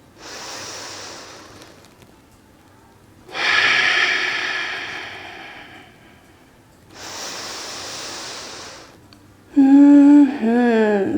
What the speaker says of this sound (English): Let's take 2 more breaths.